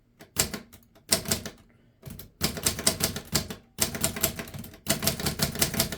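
A 1935 Remington Rand Noiseless Model One typewriter fitted with a new platen types in close, muffled bursts of rapid keystrokes, six clustered runs separated by short pauses, with no voices.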